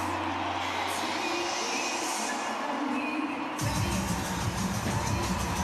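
A stadium crowd at the Allianz roars steadily as the England and Ireland women's rugby teams walk out for a Six Nations match, the dense cheering swelling and thickening partway through, with possible pops from fireworks.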